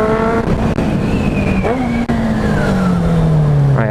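Car engine with a dB killer fitted in the exhaust, a steady tonal drone that slowly drops in pitch as it settles toward idle, close and loud, with a person talking over it.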